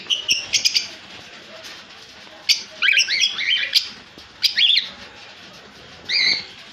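Albino red-eye pet birds at a bird market give repeated bright chirps and tweets in short bursts over a low crowd murmur, some calls close and loud, others overlapping in quick clusters.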